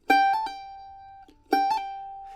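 A mandolin plays two quick hammer-on and pull-off figures on an A, each starting with a single picked note, then slurred notes with no extra pick stroke, close and clear with brief ringing between.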